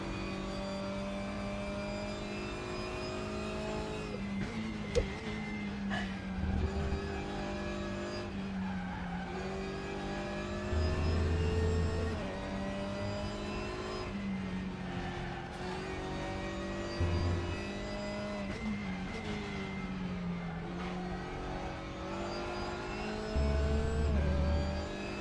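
GT4 race cars in the RaceRoom sim racing game, with steady loud engine drone and shifting revs throughout, several brief bursts of tyre squeal or skidding, and no talk.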